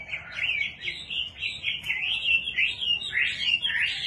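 A Chinese hwamei songbird sings a continuous, bright, warbling song with rapid twisting phrases, close and loud.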